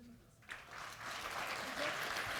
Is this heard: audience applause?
yes